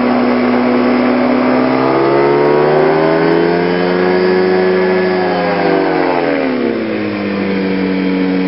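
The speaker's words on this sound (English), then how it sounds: "Just give it a little short burst of fuel." A Dragonfly light aircraft engine drones loudly and continuously during its takeoff run, its pitch rising and then easing back as the throttle gets a short burst, with no voices.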